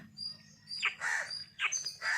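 A crow calls nearby in a few separate bursts, moderately loud harsh cries spaced apart over a quiet background, with no talking.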